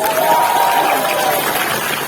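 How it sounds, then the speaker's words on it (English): A crowd at a district beauty pageant applauds and cheers loudly for the finalists, a steady wash of clapping with voices mixed in. "Shall we give them a huge round of applause?"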